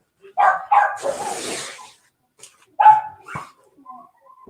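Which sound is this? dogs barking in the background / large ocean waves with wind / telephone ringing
dogs barking in the background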